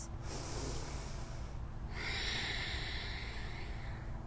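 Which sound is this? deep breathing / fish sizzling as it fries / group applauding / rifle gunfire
deep breathing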